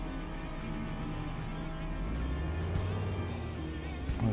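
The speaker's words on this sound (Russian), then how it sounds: "Этот вот звук двигателя где-то снизу." Engine of a vehicle in the video game Roadkill idling somewhere below the player, a continuous low rumbling drone with a steady mechanical hum throughout and no talking.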